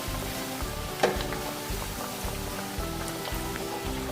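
Farali cutlets frying in oil after being turned, a soft steady sizzle with light popping and a brief sharp crackle near the start.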